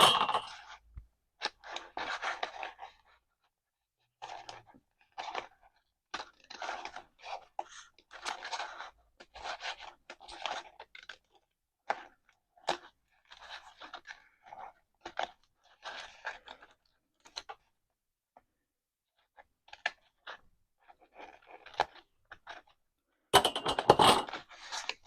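Scissors snipping through card stock about an inch out from a circle, a run of short crisp cuts in bursts with brief pauses, close and fairly quiet, ending in a louder rustle of the paper.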